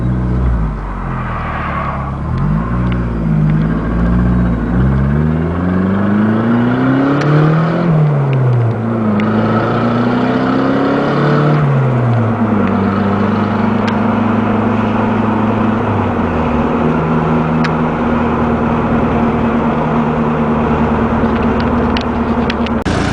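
A GS Turbo project car's 420A turbo engine runs close by, idling with a steady rumble and revving up and down several times, the pitch rising and falling in smooth sweeps before settling into a higher idle.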